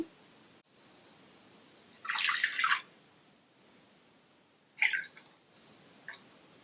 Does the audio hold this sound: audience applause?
no